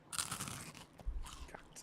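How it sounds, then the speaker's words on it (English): Close, crisp crunching of a chocolate-filled waffle cone snack with an oozing cream centre: a few quick brittle bites followed by softer chewing, heard alone without talk. "It's super crunchy."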